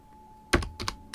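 Keys clack on a computer keyboard as a command is typed, a quick cluster of a few crisp close strokes over a faint hum.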